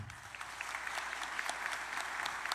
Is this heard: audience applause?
yes